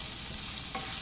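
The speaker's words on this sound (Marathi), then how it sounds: "हा कांदा मी आता इथे मध्ये घेऊन छानपैकी भाजत आहे" An onion roasting in the middle of a hot pan beside tomato and coriander stems, giving a steady, close sizzle with a soft stirring scrape near the end.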